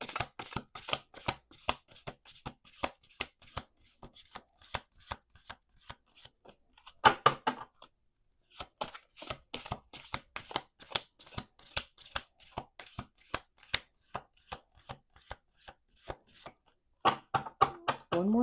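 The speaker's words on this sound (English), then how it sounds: "Let's do 2 more shuffles." A deck of cards is riffled and bridged over and over, crisp rapid flutters in bursts separated by short pauses, close and fairly quiet.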